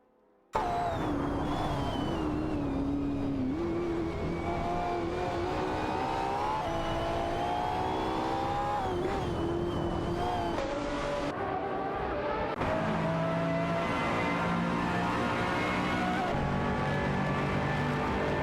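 Porsche 718 Cayman GT4 and Mazda race cars dueling in a racing video game hold a loud, continuous engine whine close up, rising and falling in pitch through gear shifts and revs.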